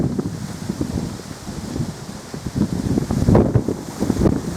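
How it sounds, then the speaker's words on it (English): Strong wind on the clifftop at Scarborough Castle buffets the microphone in loud, irregular gusts, a rough rumbling roar that swells and dips with no voices. "You can hear that wind, can you hear that? That's how windy it is up here"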